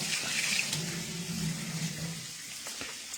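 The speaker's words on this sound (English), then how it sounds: "let me rinse this knife off real quick" A kitchen tap runs steadily as a knife is rinsed under it during cooking, a close, even splashing stream that thins slightly toward the end, with no talking.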